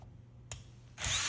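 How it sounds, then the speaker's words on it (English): A power drill set to torque spec drives a screw into a Cross Armory AR fixed magazine part, with a faint click and then a short, close whir starting near the end. "We've got a drill set up to the right torque spec."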